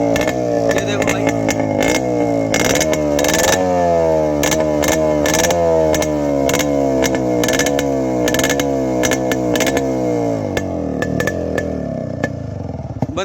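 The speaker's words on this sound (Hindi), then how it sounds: "तो बेसिकली इसका साउंड ही सुनाना था, जिसकी वजह से मैं आया हूँ, जो कि इसका ख़तरनाक साउंड है।" A 1991 Yamaha RX100 motorcycle with a modified exhaust revs hard and close up, its engine climbing and dropping in repeated loud, raspy surges with a steady rumble between them.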